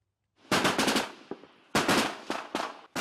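Automatic weapon fire cracks out in loud bursts during frontline fighting near the Sea of Azov, a long rattling volley followed by shorter repeated bursts, close and harsh, with no talk.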